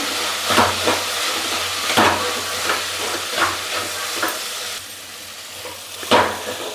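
Spices and salt are stirred into a pale bean curry, giving a soft sizzle and a steady hiss under a series of scraping stirs that come roughly every second, close and fairly loud.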